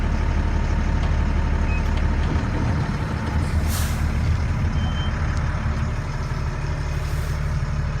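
An FMTV military truck idles loudly with a heavy, steady engine rumble while faint, evenly spaced reversing beeps sound over it and brief air hisses break through.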